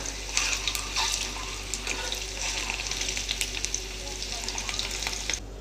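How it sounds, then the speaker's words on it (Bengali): Eggs fry in oil in a pan with a steady, close sizzle and occasional crackles and stirring, continuous throughout with no talk. "আমার ভাজা হয়ে গেছে ডিমগুলো"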